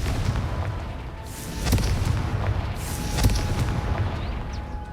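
A Confringo spell blast in a video game, heard as a loud, deep, rumbling boom with a couple of sharper cracks rising out of a sustained roar.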